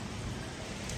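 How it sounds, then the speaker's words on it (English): Heavy rain pours down steadily on a miserable cold day in Maine, a dense, continuous hiss close by with no breaks and no other sounds standing out. "Raining cats and dogs."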